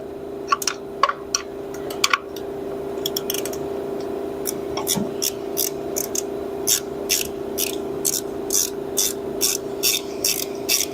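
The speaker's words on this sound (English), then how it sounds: "Now we can grab a wrench here." Ratcheting wrench clicks while working on a John Deere snowthrower, a close series of sharp metallic ticks in irregular bursts that settle into a steady rhythm, over a constant low mechanical hum.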